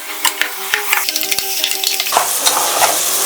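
Masala with cashews and raisins sizzles loudly in a pan while a spoon stirs and clatters against the metal in quick, irregular strokes, the frying hiss swelling toward the end.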